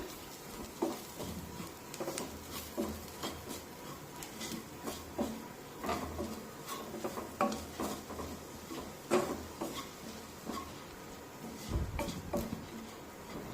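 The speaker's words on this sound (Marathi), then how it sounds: "आता हे मसाले चांगले परतून घेऊया।" Onion-garlic masala spices are sautéed in a pan with a soft sizzle under repeated scraping and tapping of a spoon against the pan, irregular knocks recurring every second or so, close and fairly quiet.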